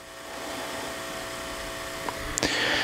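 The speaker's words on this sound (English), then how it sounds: "I have my heat gun. I'll try to heat it up like here." A heat gun blows hot air at roughly 250°C onto a Wyze Plug during a teardown, a steady broadband whoosh running close and continuous throughout, with a couple of brief clicks near the end.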